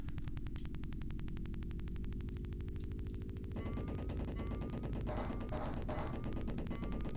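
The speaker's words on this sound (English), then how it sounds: "Oh, it's a gun nest." Rapid, evenly spaced machine-gun bursts from a gun nest in the Mega Drive game Steel Talons, a steady rattling stream over a droning engine hum with electronic game tones, loud and close.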